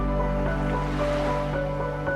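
Sea waves wash in at Mandvi Beach in Kutch, a soft continuous surf heard alone under a sustained musical tone.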